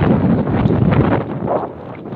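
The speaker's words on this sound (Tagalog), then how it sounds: "yung lakas ng hangin" Strong wind on a fishing trip buffets the microphone in a steady, loud roar with gusty swells, rumbling low throughout and no voices.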